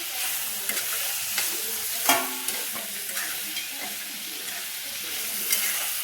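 Onion, tomato and curry leaves frying together in a pan, a close, steady hiss and crackle with occasional scrape and tap of a stirring spoon.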